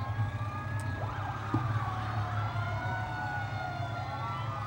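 A fire and rescue engine siren wails through a small-town parade at Lansing Frontier Days, its rising and falling tone fairly distant and soft over a low background rumble.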